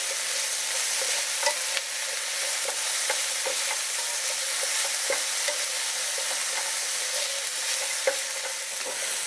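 Ingredients for a shiitake mushroom gravy sautéing in a pan over medium heat, giving a steady, loud, close sizzle with occasional soft taps and stirring scrapes throughout.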